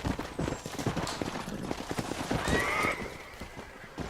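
A horse neighs in the Red Dead Redemption video game amid rapid clip-clop hoofbeats, a clear whinny rising midway over steady galloping, close and moderately loud.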